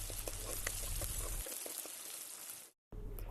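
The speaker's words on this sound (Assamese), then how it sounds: "এতিয়া পিঁয়াজৰ লগতে আদা, নহৰু, জলকীয়া তেলতে ভাজি ল'ম" Chopped onion, ginger, garlic and chilli frying in oil for a meat curry give a soft, steady sizzle over a low hum, with a brief silence near the end.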